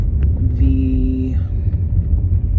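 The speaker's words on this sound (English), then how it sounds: "vehicle that I am currently driving has various issues" A car rumbles steadily while being driven, a loud low engine and road drone filling the whole stretch, with a brief tonal whine rising over it partway through.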